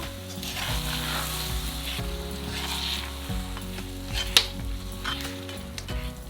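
Onion, hot and sweet peppers, tomato paste and garlic sizzle in a frying pan while being stirred, with scraping and clinking from the utensil over a steady fry, up close and alone.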